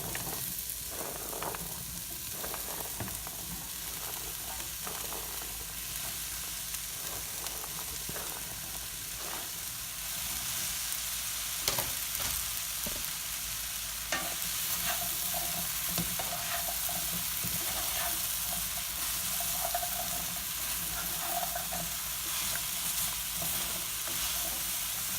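Sweet potatoes tip into a pot for chowder and start frying with a constant close sizzle, broken by scraping stirs and small clunks against the pot.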